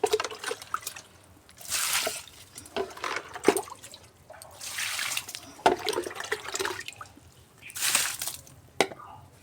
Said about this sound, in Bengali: গাছে জল দেওয়া হয়ে গেল